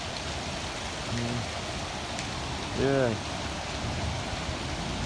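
A rainstorm in the wilderness that turned into hail, heard as a steady broadband hiss of falling drops throughout, with a man's brief vocal sounds partway through.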